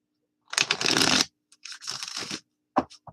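Tarot cards being shuffled by hand in three bursts of riffling, crackling card noise separated by short silences, close and fairly quiet.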